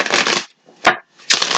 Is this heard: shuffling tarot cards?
yes